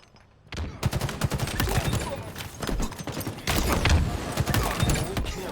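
Grenade blast and gunfire in a Halo esports match, with dense overlapping shots and booms that come in loud, sustained volleys after a brief quiet start.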